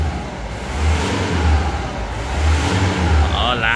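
A 1995 Toyota Hilux with the 3L 2.8 turbo diesel and the original 2-inch stock exhaust revs in two loud, close blips. Its low, gruff drone rises and falls in each blip, and a turbo whir comes through as the engine settles.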